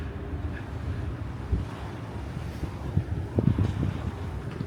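Wind rushes and sea waves wash below the lower deck of the cruise ship Celebrity Summit, a steady low roar with gusty thumps on the microphone and no voices.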